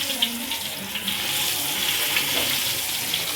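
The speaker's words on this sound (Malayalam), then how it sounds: "കരിയാപ്പലയും എണ്ണ ചൂടാക്കിയതും മീൻ അതിനകത്തോട്ട് ഇടുക." Red belly fish frying in hot oil with curry leaves gives a constant, fairly loud hissing sizzle, broad and watery in texture, with a few small pops and no talking.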